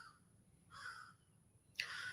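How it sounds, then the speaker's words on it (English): Crows caw in short bursts outdoors in a quiet rural setting, a few separate calls at moderate distance with silence between them and no talk. "The crows are letting us hear it."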